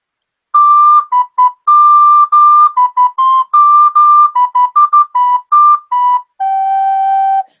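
A recorder plays the simple nursery tune Pease Porridge Hot, clear, close and loud, in short separated phrases of detached notes that end on a longer held low tone, with no talking over it.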